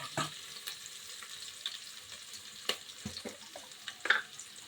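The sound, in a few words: chopped onions frying in pan for mutton curry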